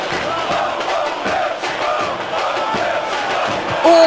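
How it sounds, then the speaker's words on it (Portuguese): Stadium crowd noise from PES 2010 during a Corinthians versus Bahia league match, a steady, loud wash of many voices with no clear peaks, the visiting fans sounding subdued. "A torcida visitante não esconde a decepção."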